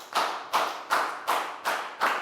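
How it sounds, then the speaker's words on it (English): Classroom of students claps in a slow, even rhythm, six loud, near, unison claps spaced about a second apart. "Big round of applause for Dan"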